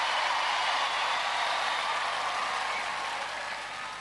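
A studio crowd at an International Gladiators semi-final cheers and applauds in a loud, dense, unbroken roar that eases slightly toward the end.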